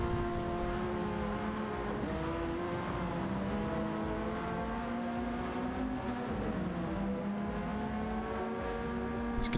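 Race cars in a racing game, nose to tail down a straightaway toward a braking zone: a steady, loud drone of engines with shifting pitch as they hold speed, continuous and with no talking.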